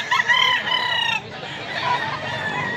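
A white rooster in Cebu gives one loud, close crow with a drawn-out harmonic call that breaks off, followed by softer clucking and ambient noise.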